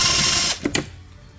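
A power tool whirs steadily while driving small 10mm bolts on a 2004 Scion xB during a fifth gear swap, then cuts off into a couple of short bursts and a quiet close.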